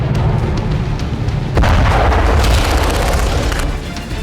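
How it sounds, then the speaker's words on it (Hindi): Heavy booming blasts from a missile and drone attack on the Sevastopol naval base, a dense roar that surges louder partway through and holds, with no talk over it. "सेवेस्तोपोल के नेवल बेस पर मिसाइल और ड्रोन अटैक से पूरे बेस को बर्बाद कर दिया।"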